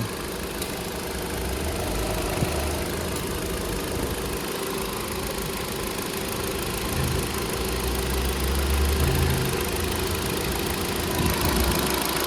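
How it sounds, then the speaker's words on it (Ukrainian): A Nissan Qashqai engine idles steadily at close range, a low, even rumble with a faint mechanical tick running underneath, with no voices. "Ну, Двигун тут просто шепче."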